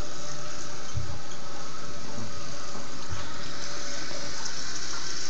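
A toilet tank refills with water after a flush during a fill valve replacement, a loud, steady rushing and hissing flow close by that continues without pause, with a few low knocks early on.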